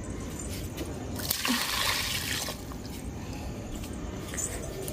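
Water splashes and trickles steadily onto a potted plant, a continuous wet pouring sound that swells briefly midway, with no talking.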